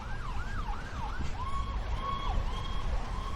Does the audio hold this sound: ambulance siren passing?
yes